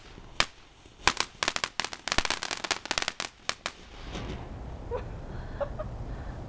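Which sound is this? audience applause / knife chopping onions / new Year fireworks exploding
new Year fireworks exploding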